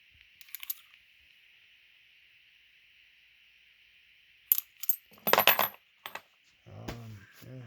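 Modern coins, including Pakistani ordnance factory tokens, clink and jingle as they are picked up and handled, in a few short metallic bursts over a steady background hiss, with near rustling toward the end.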